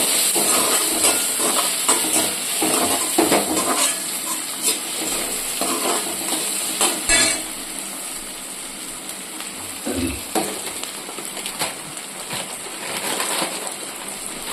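Tomatoes going into a frying pan for mutton kulambu, a steady hissing sizzle with bursts of crackling and stirring scrapes, close and moderately loud.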